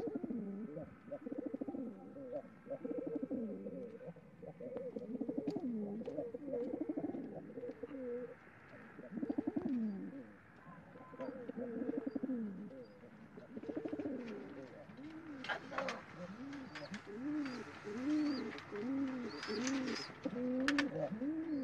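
Pigeons coo close by in repeated soft, rolling phrases, with a few chirps and light rustling mixed in. The calls carry on steadily from start to finish.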